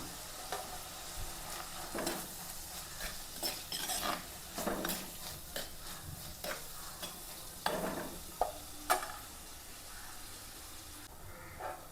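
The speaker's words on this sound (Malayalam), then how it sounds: "അപ്പോൾ ഇതിലേക്ക് ഇപ്പോൾ ഞാൻ സവാളയും പച്ചമുളക്, ഒരു ചെറിയ കഷ്ണം ഇഞ്ചി, വെളുത്തുള്ളി എന്നിവ കട്ട് ചെയ്തിട്ടിരിക്കുകയാണ്. വാടട്ടെ." Chopped onion, green chilli, ginger and garlic sautéing in a pan, a faint steady sizzle broken by repeated scraping and clinking stirs with a utensil.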